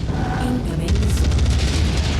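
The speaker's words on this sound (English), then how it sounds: "Incoming missile." A heavy missile explosion in the MechWarrior 5 Mercenaries mech combat game, a loud low boom that swells suddenly and rumbles with crackling debris, alongside faint voice.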